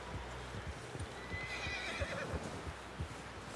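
A horse whinnies in Red Dead Redemption 2, with a rising neigh cutting through steady hoof clip-clop and the rumble of a busy game scene, close and fairly loud.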